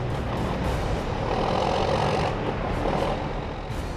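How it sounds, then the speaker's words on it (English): A heavy tow truck's engine roars steadily and loudly, throttled up to drive its winch during a winter recovery, forming a dense continuous rumble with slight swells and no voices. "Start bumping the throttle up to make the winch pull harder."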